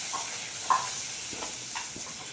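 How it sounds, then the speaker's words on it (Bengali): Luchi made from whole-wheat dough deep frying in hot oil, a steady soft hiss with a few faint clicks and bubbling pops, fairly quiet and close, with no talking. "তো এখন এই যে লুচিগুলো ভেজে নিচ্ছি"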